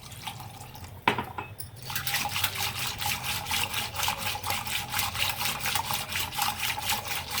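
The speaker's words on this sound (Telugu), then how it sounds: "కొంచెం వాటర్ వేసి" Water pours and splashes into a bowl of buttermilk mixed with curd, lemon juice and salt, a steady rippling liquid rush that starts after a brief clink and continues evenly, fairly close.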